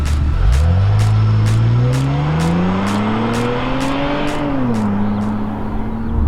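A Holden Insignia VXR with a turbocharged 2.8-litre V6 accelerates hard from close by, its engine note climbing steadily through the revs and then dropping back as the throttle eases, loud and alone.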